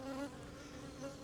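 Bees buzzing around a yard, a faint steady drone with a couple of closer passes, no voices.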